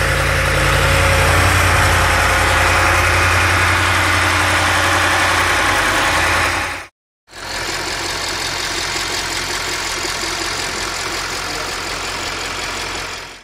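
An Audi S7 4.0 TFSI V8 idles close to the microphone during turbo and PCV valve repair work, with a steady, loud engine hum that cuts out briefly midway and then resumes at an even idle.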